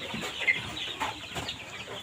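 A flock of about 350 one-month-old Fayoumi chicks chirps and peeps in a steady, overlapping chorus with brief louder cheeps, fairly close, with no talking.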